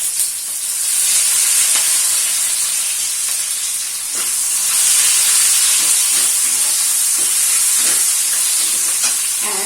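Chopped onion hitting hot oil in a home kitchen pan, with a crushed cardamom already in, gives a steady, loud broadband sizzle and hiss that runs throughout, swelling slightly midway, with faint clicks of stirring and no talk.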